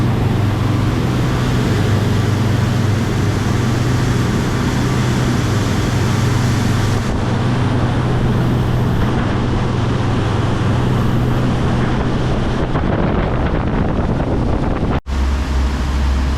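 A motorboat engine drones steadily on the Potomac River with wind buffeting the microphone, then the engine note drops as the boat slows to about 10 miles an hour.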